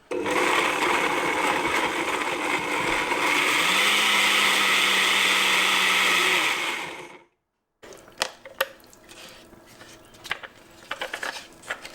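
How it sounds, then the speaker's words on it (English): A blender whirs loudly and steadily, pureeing dates and tamarind into a smooth chutney paste. The motor pitch shifts partway through, then it cuts off abruptly, leaving quiet kitchen clatter and light tapping. "now I'm going to blend this until it's a fairly smooth paste"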